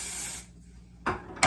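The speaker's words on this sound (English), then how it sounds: "I just literally pick up the hair with the brush and then spray on the root." Hair spray aimed at the hair roots, two separate short hissing bursts, the first fading out and a second one after a pause, with a third burst just starting at the end, close and clear.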